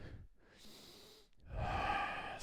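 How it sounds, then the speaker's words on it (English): Breathing of a person holding a yoga low lunge with palms together, chest open: a soft breath, a pause, then a stronger, faster airy exhale, close and alone. "really focus on our breathing here. Noticing maybe it's becoming a little bit faster."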